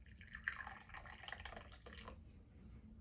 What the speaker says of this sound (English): I'm going to pour the tea